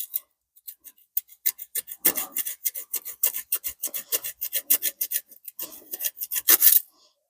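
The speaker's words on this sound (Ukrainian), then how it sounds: "О, то я почти і пропиляла її." A hand saw rasps through a tree branch in quick back-and-forth strokes, dry and scratchy, close and loud, with short gaps between bursts and the cut speeding up near the end before stopping.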